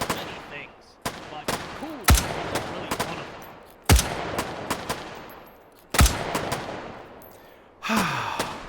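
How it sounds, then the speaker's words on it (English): At a shooting range in the VR game H3VR, gunfire cracks out in loud, sharp, irregular shots, some in quick bursts and others spaced a second or two apart, each followed by a short ringing tail. "it just feels delightful to be standing here, hearing gunfire on both sides"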